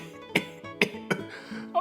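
A voice imitating a sick creature's cough, four or five short hoarse hacking bursts in quick succession, close and clear, with no other sounds around them.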